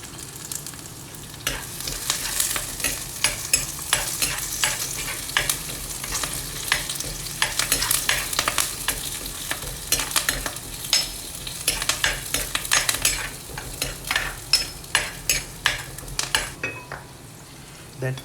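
Curry leaves fry in hot oil in a pan with a steady close sizzle and crackle, while a utensil repeatedly scrapes and taps against the pan, the strokes growing more distinct toward the end.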